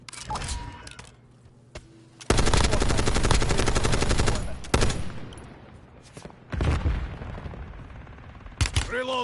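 Automatic gunfire in a battle royale video game, with long sustained bursts of rapid shots, close and loud, broken by short pauses and a few single cracks, with brief game voice lines in between.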